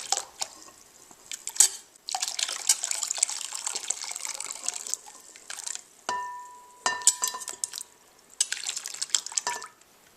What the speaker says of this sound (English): Now we're just going to transfer our jalapenos to a bowl of icy cold water,